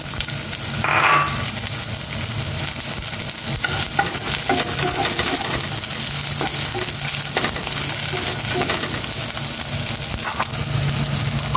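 Onion frying in a pan, a steady close sizzle with stirring scrapes running continuously throughout, no talking.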